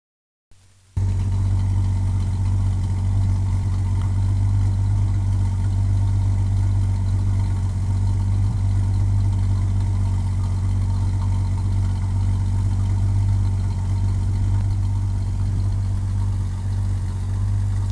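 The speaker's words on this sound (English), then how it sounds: "That exhaust sounds a lot quieter than it used to." Car engine with a modified, quieter exhaust idles steadily up close, a constant low rumble with no revving and no talk.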